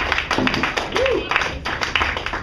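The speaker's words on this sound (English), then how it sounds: "Keep clapping for Paul" Comedy club audience clapping for a comedian, a dense patter of many hands that keeps going steadily under crowd voices and cheering.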